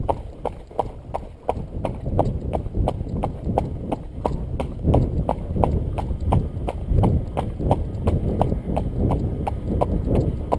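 Steady rhythmic clip-clop of a cob horse's hooves trotting downhill on a hard surface, close and continuous throughout.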